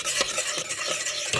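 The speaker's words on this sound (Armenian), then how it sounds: "Արագ խառնում ենք, որպեսզի ձվածեղ չդառնա" Cream with egg yolk being stirred fast in a pot on the stove, a dense and continuous rapid scraping and swishing close up, steady and fairly loud throughout with no voices.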